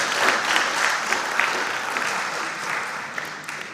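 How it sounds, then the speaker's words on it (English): A school quiz audience claps steadily for the contestants, a dense, moderately loud round of applause with no voices over it. "A round of applause for them."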